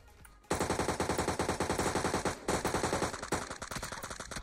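Sustained automatic gunfire in the PUBG Mobile battle royale game bursts in after a half-second lull, a rapid, loud stream of shots with a brief break near the middle before the firing resumes.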